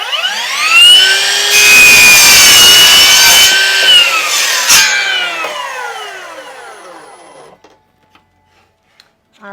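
A saw makes an angled cut through a wood panel for recessed wainscoting, a loud, continuous rasping whine with sweeping pitch that holds for several seconds and then dies away to near silence.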